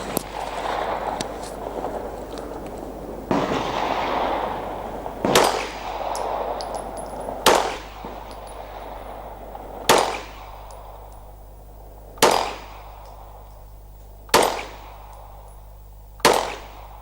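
A Walther PPQ Tactical 9mm pistol fires at steel targets set at 15 metres, with about ten sharp shots. The early shots come fast with echoing rumble, and the later ones are single reports roughly two seconds apart, each followed by a decaying ring.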